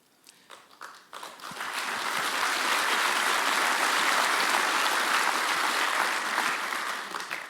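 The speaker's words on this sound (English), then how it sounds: "I'm glad to hear the applause on that" A few scattered claps build quickly into full applause from a fundraiser audience, sustained and loud through the middle, then easing off near the end.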